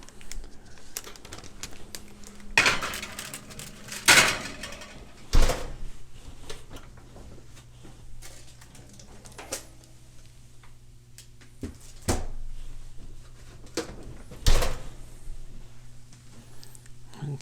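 A home oven door for a keto three-cheese fathead pizza thumps and clatters open and shut several times, with scattered clunks and handling noises spread across a quiet kitchen under a low steady hum.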